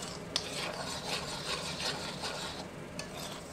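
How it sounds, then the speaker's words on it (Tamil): Homemade herbal hair oil is stirred in a pan over a low simmer, giving a continuous soft scraping and swishing with a few light clicks, close and alone with no talk. "கவனமாக சிம்மில் போட்டுக்கிட்டே நீங்கள் கலக்கி விட்டுட்டே இருக்கணும்"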